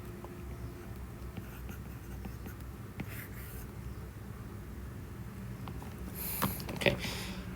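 Chalk or marker writing math on a classroom board: faint, steady scratchy strokes over a hissy room, with a few sharper taps near the end and no clear talking.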